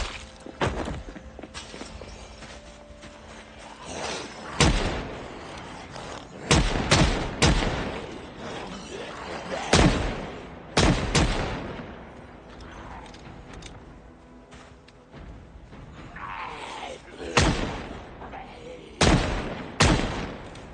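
Gunshots in the video game Project Zomboid: a series of sharp, loud cracks spaced irregularly, some in quick pairs, over a busy background with occasional mechanical clicks.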